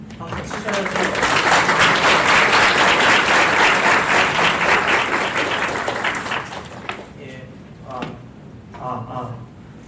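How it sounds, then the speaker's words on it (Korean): Audience applause after a talk at UbuCon Korea 2025, a dense wave of clapping that swells, holds for several seconds and fades, followed by a voice speaking over scattered final claps. "다시 한번 박수 부탁드리겠습니다"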